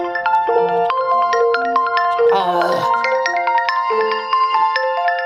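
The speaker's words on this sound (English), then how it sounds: "try to get this to stop ringing." A phone rings with a loud, repeating electronic melody of bright tones, close and continuous, with a brief burst of handling noise partway through.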